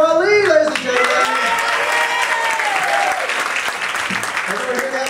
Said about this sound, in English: How about some gratuitous applause for Ali